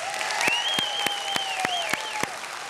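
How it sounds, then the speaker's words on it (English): A church congregation claps in a steady rhythm of about three claps per second, with a continuous wash of crowd noise and a sustained tonal sound running underneath. "I want you to clap your hands."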